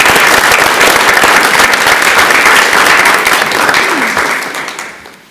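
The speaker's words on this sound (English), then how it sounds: "Let's give them a round of applause" Loud, enthusiastic applause from a sizable group, dense clapping that carries on steadily before tapering off and dying away at the end.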